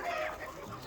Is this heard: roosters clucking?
yes